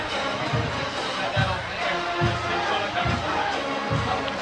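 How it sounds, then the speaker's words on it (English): A crowd at a high school football game, Davison against Flint Southwestern, makes a broad wash of chatter and murmur, with a commentator talking over it throughout. "Really nice crowd tonight."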